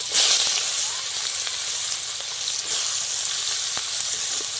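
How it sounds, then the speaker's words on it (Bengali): Chopped onion fries in hot oil for a Bengali pomfret curry, giving a steady, close, bright sizzle with faint scattered pops and occasional light stirring, without talk. "পেঁয়াজটা আমি হালকা করে ভেজে নেব।"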